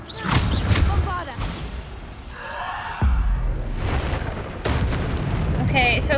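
A Bombarda explosion spell booms in Hogwarts Legacy amid battle, with several heavy low blasts landing around the 3 and 4.5 second marks over a steady rumble, along with other spell effects and faint voices.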